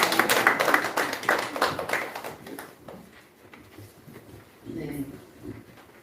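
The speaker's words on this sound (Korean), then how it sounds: "우리 환영의 박수로 맞이하겠습니다." Welcoming applause from a church congregation, dense and loud at first, then thinning into scattered claps before fading, with a voice speaking briefly near the end.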